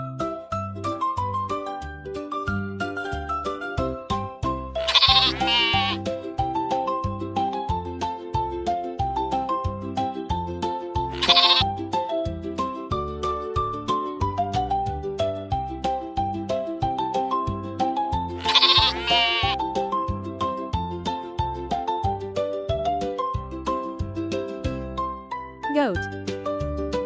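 Sheep bleat on a farm in three distinct wavering calls spread out over a longer stretch, each rising clearly above a steady background of music or other sound.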